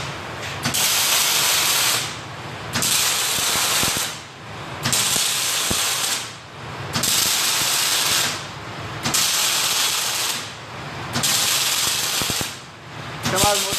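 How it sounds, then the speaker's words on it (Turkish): An automatic welding machine at work on feeders, loud and close, giving a harsh crackling hiss in repeated long bursts separated by short gaps. "El değmeden kaynak yapıyor."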